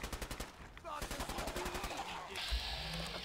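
Rapid gunfire in the video game Fallout 4, a fast rhythmic burst of shots followed by heavier single blasts, loud and close, with a brief game sound near the end.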